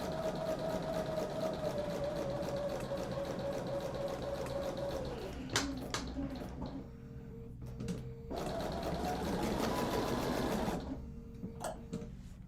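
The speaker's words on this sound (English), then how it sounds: "so I am going to go ahead and sew that." Sewing machine stitching quilt seams for a flower garden quilt, a steady close mechanical whir running continuously, pausing briefly around the middle with a few clicks before resuming, then stopping near the end.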